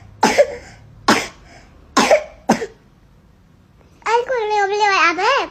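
A child coughs four times in short sharp bursts, then a voice speaks briefly afterward.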